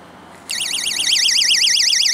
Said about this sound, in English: Alarm. I wonder if it's a rape alarm or something.